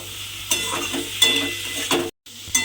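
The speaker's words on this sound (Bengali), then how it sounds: "দিয়ে আবারও কিন্তু সমস্ত কিছু খুব ভালোভাবে একটু মিশিয়ে নেব" A spoon stirs turmeric and ground spices through sizzling food in a frying pan for a kochur loti dish, with soft scraping strokes over a steady crackle and a brief dropout near the end.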